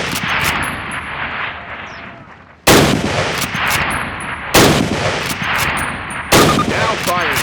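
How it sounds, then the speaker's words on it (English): Springfield rifle fire in Call of Duty's D-Day Sainte-Mère-Église mission: three sharp, loud reports about two seconds apart, each with a ringing tail, over a constant rumble of battle ambience. "Grab up a Springfield rifle from the table, switching it for your carbine. Turn to the left, move to the fence, and fire 2 rounds at your target."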